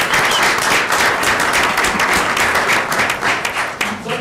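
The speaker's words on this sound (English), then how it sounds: "how about a round of applause for that?" Applause from an audience at a school board meeting, steady dense clapping that holds evenly for several seconds, fairly loud and close, with no talk over it.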